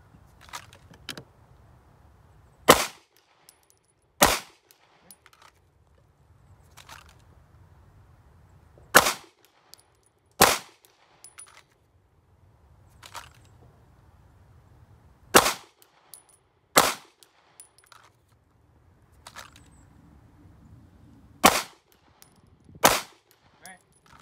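Pistol shots crack out in pairs and singles during a dot torture shooting drill, sharp and loud against a quiet range, spaced by pauses of a few seconds.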